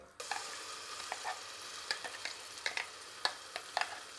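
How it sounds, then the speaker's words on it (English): Spice paste frying in two tablespoons of vegetable oil gives a soft, constant sizzle, with light scrapes and taps from stirring at irregular intervals, close and quiet with no voices. "So we're going to fry the spice paste."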